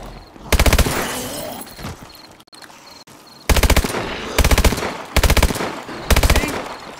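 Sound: machine gun fire in a zombie video game

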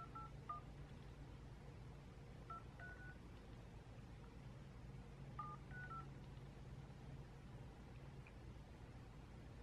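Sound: telephone keypad dialing tones

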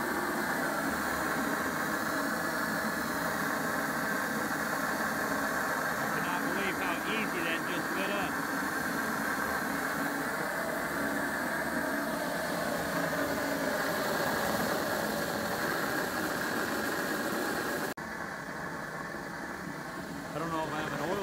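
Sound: dehumidifier compressor running micro waste oil burner

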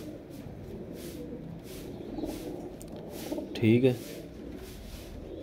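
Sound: breeder pigeons cooing

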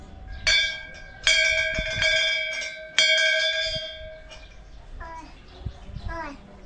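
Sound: bell ringing

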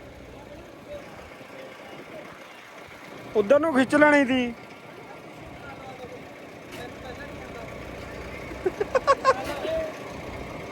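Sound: tractor engine running

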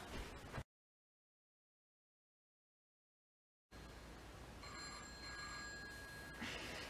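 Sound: telephone ringing

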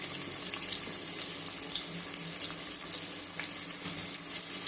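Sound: sliced onions frying in oil for chicken biryani

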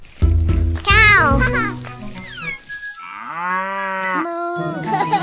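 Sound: voice imitating a cow mooing

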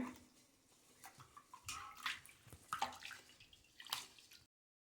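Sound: water rinsing rice in a bowl

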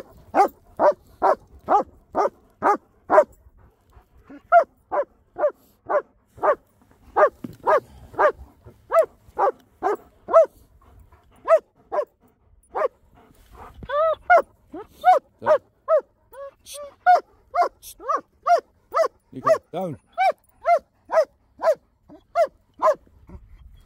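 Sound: dogs barking and whimpering

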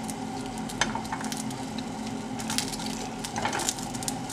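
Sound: tomatoes, garlic and onion charring in a small frying pan

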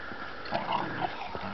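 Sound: dog playing in snow

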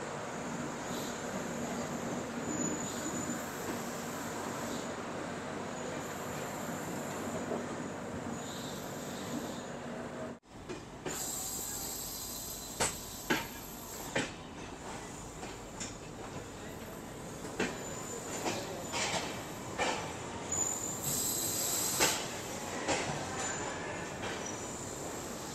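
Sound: Ramayan Express train pulled by WAP-7 locomotive departing station

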